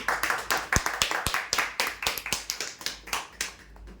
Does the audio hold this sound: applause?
yes